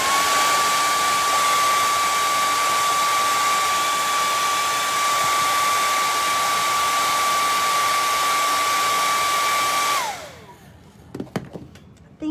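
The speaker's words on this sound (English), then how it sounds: "it's that one spot there I just want to hit with the blow dryer." A hair dryer blows loudly and steadily with a high whine for about ten seconds, then switches off, followed by a few faint clicks and handling sounds.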